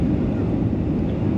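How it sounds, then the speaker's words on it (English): Steady broadband roar of a Qantas airliner cabin on approach from Sydney to Brisbane in misty weather as the landing gear is lowered, a continuous loud low rumble with no distinct clunk, heard from inside. "It does sound, by the change of the noise, that we've just dropped the landing gear"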